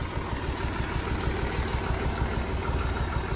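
A tractor engine labors under load while lifting a pallet of fertilizer bags, producing a loud, steady, close rumble throughout with no pauses or talk.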